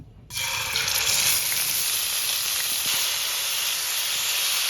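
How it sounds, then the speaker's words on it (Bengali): A sudden loud hiss bursts out as a piece of river rohu fish hits hot oil, then settles into a steady, intense sizzle that continues without pause. "তেলটা গরম হয়ে গেছে এখন মাছটা দিয়ে দিব"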